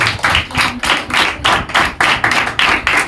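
A crowd at a church anniversary celebration claps together in a loud, steady rhythm of strong unison beats, about three per second, with no voices over it.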